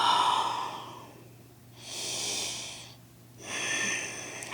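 Slow, deep breaths during a downward-facing-dog yoga pose: a soft exhale, a pause, then two airy inhale-exhale swells, close to the microphone over a faint low hum, with no talk.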